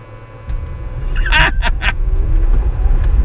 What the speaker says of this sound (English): The drive's engaged now, and then as soon as you put your foot down, she'll roll off.